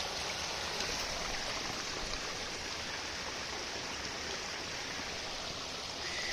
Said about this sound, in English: Here is a little waterfall.